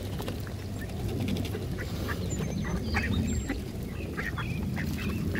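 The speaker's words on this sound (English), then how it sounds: "So this is your dose of ducks for today." Ducks quack repeatedly near a dock over wind-blown, lapping floodwater, a busy overlapping chorus of short calls above a steady low rumble of wind.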